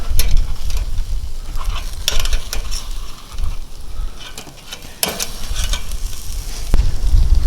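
Korean barbecue meat sizzles loudly and continuously on a hot grill, with scraping and clattering as the pieces are turned over and occasional sharp metallic clicks from tongs or utensils, and no voices.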